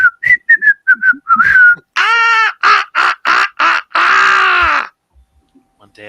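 Someone whistles a string of short, bright chirps imitating a small bird, then follows with several louder, longer squawking calls that break off before a quiet tail.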